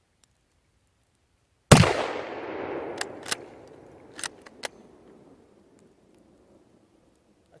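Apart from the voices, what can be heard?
Mosin Nagant 91/30 rifle gunshots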